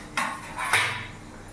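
A metal lid is lifted off a pan of chicken masala fry cooking with potatoes, giving two quick, close clanks about half a second apart over a low kitchen hum.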